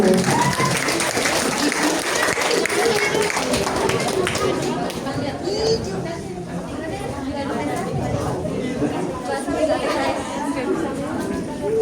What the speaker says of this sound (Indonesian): Beri aplaus yang meriah pada kelas 10